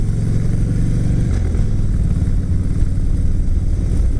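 A 2012 Harley-Davidson Dyna Switchback with a 103 cubic inch air-cooled, fuel-injected engine and belt drive, idling loud and close with a deep, steady, lumpy throb that holds without revving.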